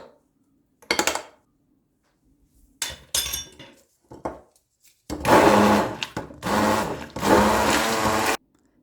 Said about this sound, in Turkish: Tekrardan blenderdan geçiriyorum. Hepsi tamamen birbirine karışsın diye.